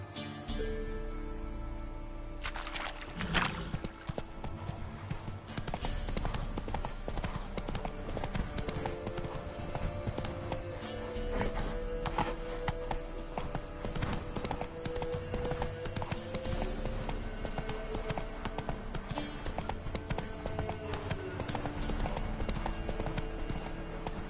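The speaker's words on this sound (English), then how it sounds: "Come on, Roach" Horse hooves galloping in The Witcher 3 video game, a steady rapid clip-clop running throughout over a bed of game music and ambience, fairly close and even in level.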